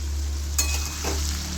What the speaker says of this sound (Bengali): নাড়িয়ে নিচ্ছি।